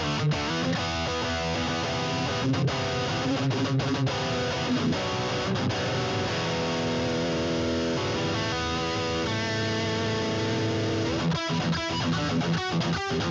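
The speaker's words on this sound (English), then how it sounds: "that's great for your modern high gain, really tight distortion sounds" A heavily distorted electric guitar through a Boss GX-10 multi-effects modeller plays tight, chugging riffs and sustained chords with a thick, saturated high-gain tone and sharp rhythmic stops.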